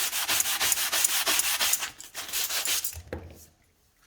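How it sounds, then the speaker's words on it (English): Wood being sanded smooth while finishing a handmade flush trim saw: rapid, rhythmic rubbing strokes, close and fairly loud, for about three seconds, then slowing to a couple of lighter scrapes before fading out. "Very little sanding left to do."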